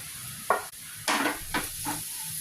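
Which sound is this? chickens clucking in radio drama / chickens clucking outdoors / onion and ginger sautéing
onion and ginger sautéing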